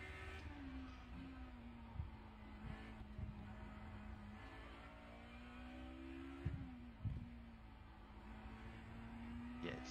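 A race car engine in the iRacing sim drones and revs at a faint level, its pitch climbing and dropping through several gear changes and braking points into a chicane.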